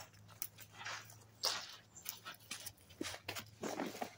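A dog being trained pants and whimpers softly and irregularly, close by but faint, with scuffling movement noises mixed in and a low hum in the background.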